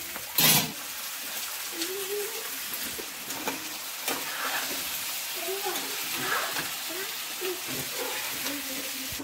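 Vegetables frying in hot oil in a pan, a steady close sizzle with occasional stirring scrapes and a sharp clatter near the start.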